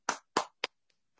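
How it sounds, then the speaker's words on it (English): One person clapping close to the microphone during an online talk: three sharp claps in quick succession, followed by two much fainter taps. "I try to clap loud enough for everybody"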